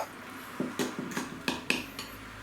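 Tuna and white sauce filling with cheese and seasoning gets mixed in a dish, heard as a handful of separate clinks and scrapes of a utensil against the dish, close and fairly quiet with pauses between strokes.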